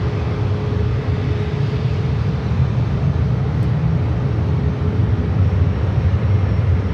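An ANA Boeing 777 starts its takeoff roll at San Francisco airport, heard as a loud, steady, broadband jet roar with a low rumble that holds constant throughout, with no talking.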